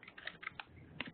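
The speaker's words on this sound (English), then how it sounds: "And I can hear people typing." Several people type on computer keyboards during an online video call, giving quick, uneven clusters of soft clicking keystrokes heard through the call audio.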